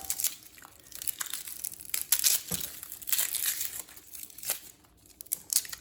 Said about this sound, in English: So peel your shallot.